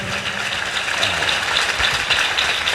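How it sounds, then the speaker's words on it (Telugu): A church congregation claps together during a Christian sermon, producing a dense, sustained patter of applause that holds at an even level for the whole stretch, with no voices over it. "ఓసారి చప్పట్లు కొట్టండి దేవుడికి"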